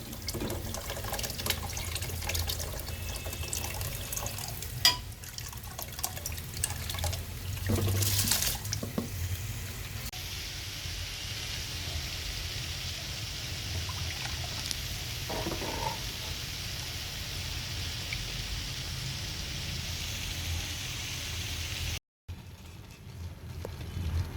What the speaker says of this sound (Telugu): నీళ్లు బాగా మరిగిన తర్వాత ముందుగా నానబెట్టుకున్న బాస్మతి బియ్యం ఈ వాటర్లో వేసుకోవాలి.